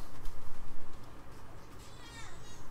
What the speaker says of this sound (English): There is a kitty cat.